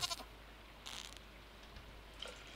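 Goats on a Stardew Valley farm give a few faint, brief bleats, one clearer call near the middle standing out against quiet game background.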